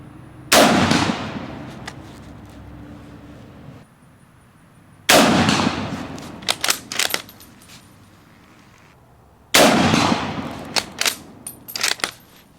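Three loud, sharp gunshots from handloaded ammunition fired over a Garmin Xero C1 Pro chronograph, spaced about every four to five seconds, each followed by brief clinking and rustling as the shooter handles gear between shots; no speech.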